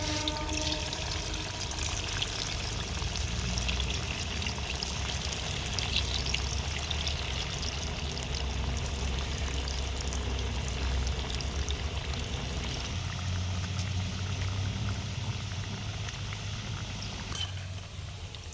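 Coriander vadi, a Maharashtrian herb fritter, frying in hot oil over a village-style wood-fired chulha. It gives a dense, continuous sizzling hiss that stays loud and even throughout, with no talking.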